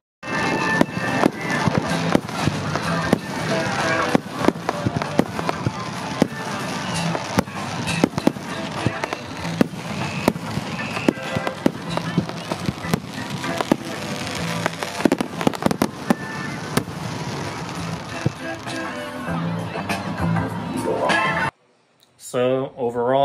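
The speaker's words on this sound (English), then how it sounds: "the fireworks." Fireworks going off near a base in Okinawa: a dense, continuous run of sharp cracks and pops with some louder bangs, ending in a brief gap before a few more.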